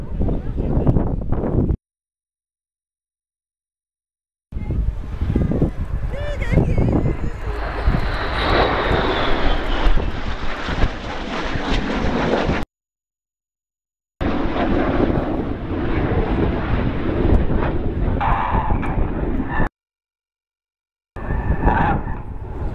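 Red Arrows display jets roaring loudly overhead while flying the corkscrew manoeuvre, two aircraft inverted, a broad sustained engine rush broken by short gaps of silence, with wind buffeting the microphone.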